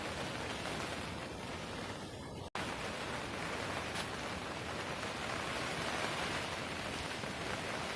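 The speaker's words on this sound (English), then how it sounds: "Listen to the rain." Steady rain drumming on a polytunnel cover, a dense continuous hiss with no talking, broken by one brief dropout partway through.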